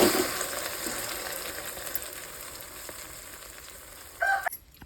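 Half a kilo of sardine curry cooks in a pan over an outdoor wood-fire stove, giving off a steady close sizzle and bubble. A brief clatter comes near the end before it cuts off.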